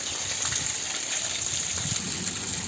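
Rainwater from the first monsoon rain in Konkan gushes and flows steadily among coconut palms, a continuous close rushing wash with no pauses.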